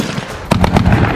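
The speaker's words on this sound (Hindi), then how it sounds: "हमास गाजा में घुसे इजराइल के जवानों पर अंधाधुंध गोलियां बरसा रहा है" Rapid, loud bursts of close machine-gun fire in Gaza, with Hamas fighters shooting at Israeli soldiers, the shots cracking in quick succession over a rumbling background.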